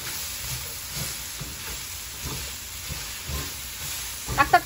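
Vegetables for japchae stir-fry in oil in a pan, a steady close sizzle and hiss running throughout with faint scraping stirs, and a few louder clatters near the end.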